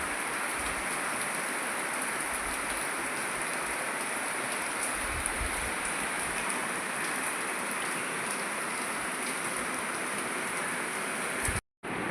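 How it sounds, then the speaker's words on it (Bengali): Steady rain pours down with a dense, even hiss, continuous throughout before cutting out briefly near the end. "দেখলে তো কীরকম বৃষ্টি এসে গেছে"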